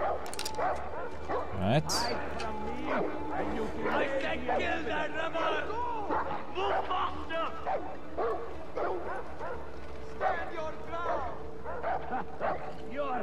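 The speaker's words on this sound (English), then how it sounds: "there's the dog" A dog in the video game Far Cry 4 barks and yips repeatedly, with whimpers and scattered crowd chatter from the game, while someone talks over it in the foreground.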